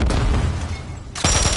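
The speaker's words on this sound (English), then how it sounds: "Stun grenade!" A stun grenade goes off in Call of Duty: a loud burst of noise, a quieter lull, then a second sharp, loud blast near the end.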